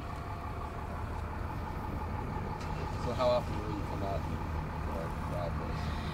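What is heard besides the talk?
traffic noise from the 520 Bridge roadway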